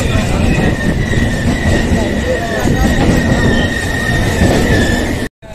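The Poorva Express passenger train runs on rails, a loud continuous rumble and rattle of wheels with a steady high squeal, heard from inside, cutting out briefly near the end.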